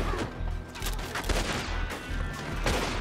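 Gunfire in Red Dead Redemption 2 plays as a loud, close volley of overlapping shots and impacts over a rumbling game soundscape, carrying on steadily for a few seconds.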